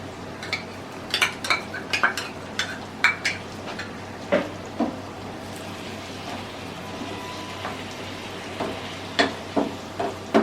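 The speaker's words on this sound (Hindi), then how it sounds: "मैंने 4 टेबल स्पून दही के ले लिए और इसके अंदर इस तरह मिक्स कर लेंगे" A spoon stirs yogurt into chicken mince for gola kebab, the mixture clicking and scraping against a metal bowl in uneven, close strokes with brief sharp clinks, no talking over it.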